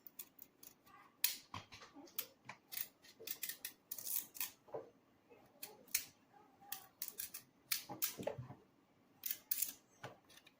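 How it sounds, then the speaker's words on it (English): Peeling the skin off a pumpkin for Jamaican chicken soup, heard as a run of sharp, irregular scraping and cutting strokes close by, with short pauses between bursts and no talking. "So I'm removing all of the skin from my pumpkin."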